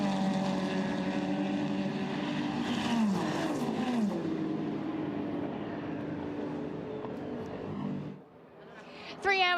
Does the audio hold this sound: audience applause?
no